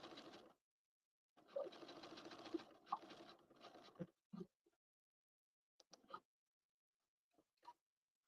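Sewing machine set to a 3.5 stitch length top stitching jeans, whirring in a steady burst for a few seconds, then short stop-start runs of stitching between pauses.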